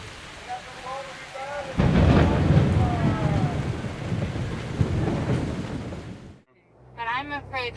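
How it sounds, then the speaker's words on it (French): A thunderstorm near Niamey in West Africa brings heavy rain hissing steadily and deep rolling thunder close by, with voices heard at the start and again after a brief drop near the end. "Une tempête terrifiante près de la ville de Niamey, en Afrique de l'Ouest."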